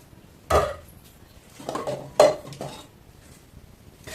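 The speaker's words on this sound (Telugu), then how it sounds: "బాండ్లీ అయితే పెట్టేసుకోండి. స్టవ్ అయితే వెలిగించేసుకోండి." A metal pan, a kadai for tomato rice, set down on a home stove with two sharp clanks about a second and a half apart, plus lighter clatter between them, close and without talk.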